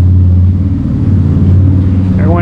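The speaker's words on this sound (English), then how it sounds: "They're going on a motorcycle." A motorcycle passes on a street in Johnson City, Tennessee on a cold day, its engine a steady low drone close by that rises briefly near the end.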